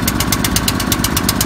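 A Canawe Magic Weld 150 engine-driven welder generator runs loudly and steadily, its small engine giving a fast, even knocking throb with no voices.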